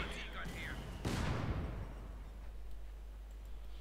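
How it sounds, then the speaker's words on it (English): In Company of Heroes 2, mines detonate under high explosive shots: a sharp blast bursts out about one second in and then rumbles away, heard beneath a commentator's voice. "Mines being set off by high explosive shots."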